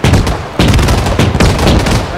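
Loud bursts of gunfire from a squad's own weapon in a military video game, three heavy volleys in quick succession, close and dominant.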